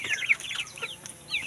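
Forty-five-day-old farm chickens cluck and chirp in short, bright bursts close by, several birds overlapping in an uneven patter over a faint background hiss.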